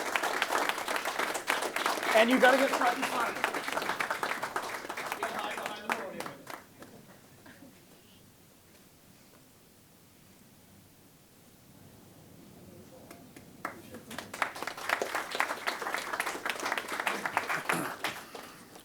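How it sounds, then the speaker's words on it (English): A town council meeting audience applauds a community member being honoured: a few seconds of hearty clapping, then a quiet pause with a brief spoken line, then a second round of applause swelling back up. "So let's give her a big round of applause."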